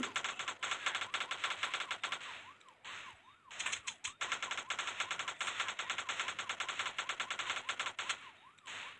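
Rapid bursts of automatic gunfire rattle almost nonstop, with a brief lull partway through, sounding like a firefight in the video game Vegas Crime Simulator.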